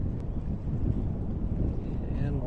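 Steady wind on the Potomac River in Washington, D.C. buffets the microphone with a low, continuous rumble and rushing noise, with no clear voices.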